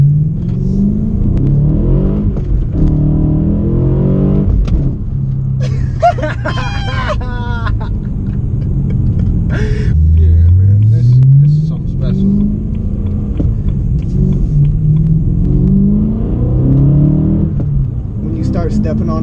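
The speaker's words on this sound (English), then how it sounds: "Listen for the intake noise up there when you start cashing it out." A BMW E92 M3 with a manual gearbox accelerating from inside the cabin, its engine rumbling and rising in pitch under people talking, with one clear climbing rev partway through.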